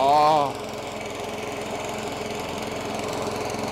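An old lawn mower engine runs steadily and close by, a continuous low rumble with a stronger burst in the first half second before it settles into an even drone.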